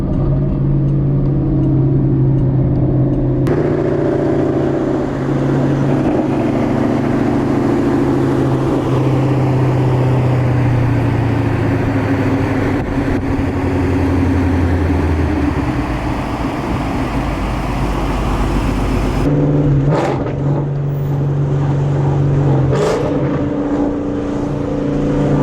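A naturally aspirated Coyote V8 Ford Mustang roars loud and close under heavy acceleration through a bridge, its engine note rising and holding steady for a long stretch, then easing off with a few sharp blips near the end.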